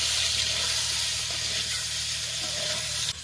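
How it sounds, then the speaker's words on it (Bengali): Eggs fry in hot oil in a pan, seasoned with salt and turmeric, giving a steady, close sizzle and hiss that ends with a sharp clatter. "ডিমটাকে নেড়ে চেড়ে ভালো করে ভেজে নেব।"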